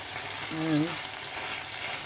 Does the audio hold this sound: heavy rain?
no